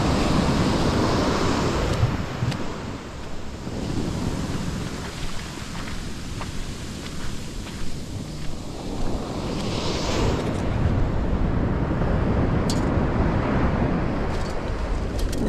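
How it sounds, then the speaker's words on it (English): Ocean surf rolls steadily onto a cold beach, a constant broad wash of breaking waves with heavy wind rumble on the microphone, loud and close, no voices. "That wave."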